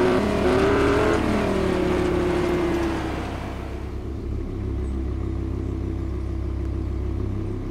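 Car engine in a Fortnite race, revving with a gliding pitch over steady low rumble for the first few seconds, then settling into a deeper, quieter idle-like drone.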